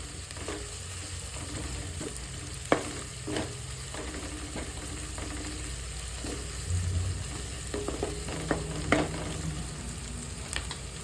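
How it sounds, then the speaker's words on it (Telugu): Onions fry in oil for an eggplant curry, a soft steady sizzle broken by occasional stirring clicks and scrapes of a utensil in the pan. "గోల్డెన్ బ్రౌన్ కలర్ వచ్చేంత వరకు మనం ఆయిల్లోనే ఫ్రై చేసుకోవాలి ఆనియన్స్ని"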